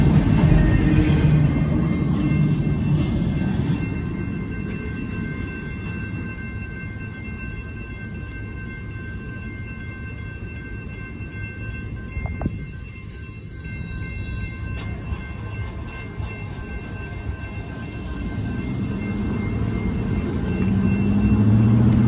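A northbound Union Pacific mixed freight train with a Ferromex locomotive rolls past on a Wednesday evening, a steady loud rumble of wagons and rail noise that fades slightly midway and swells again near the end, with no talk.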